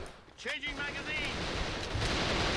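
Gunfire and shots punching through walls in the online shooter A.V.A during a competitive tournament match, a dense wash of rapid shots and impacts running steadily under a commentator's voice.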